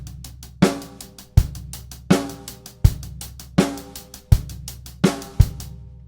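A disco track played as a two-bar drum kit groove: steady 16th-note hi-hat over punchy kick and backbeat snare hits, repeating evenly, loud and close with no talking.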